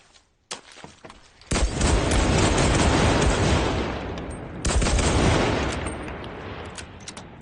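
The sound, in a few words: gunfire from the gun in Enlisted video game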